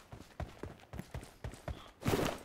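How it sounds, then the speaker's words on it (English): Footsteps in the mobile shooter game PUBG Mobile fall in a steady, evenly spaced series of soft thuds, followed by a louder, noisy burst at the end. "I can hear his footsteps."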